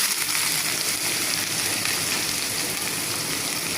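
Sliced onion sizzles in hot oil for a chicken kacchi biryani, a steady dense crackling hiss that runs without a break at close range, with no voices over it.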